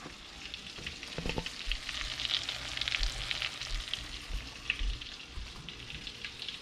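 Battered fish fries in a cast iron pan with lemon, butter and olive oil, giving a steady close sizzle with small crackles and a few stirring clicks, with no voices.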